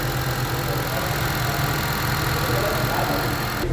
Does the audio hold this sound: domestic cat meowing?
no